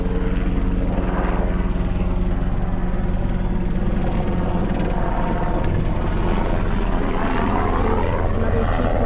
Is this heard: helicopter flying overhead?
yes